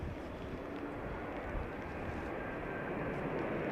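An airliner approaching to land at London Heathrow during Storm Darragh gives a broad, steady roar mixed with gusting wind buffeting the microphone. It is loud and continuous, with no speech over it.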